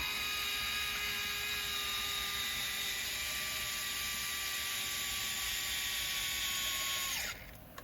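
A power driver whines steadily as an M3x20 screw is run into the work bed of a CEN Racing F450 truck, a continuous high tone that stops abruptly near the end.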